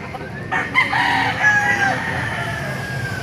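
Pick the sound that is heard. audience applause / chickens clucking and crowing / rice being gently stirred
chickens clucking and crowing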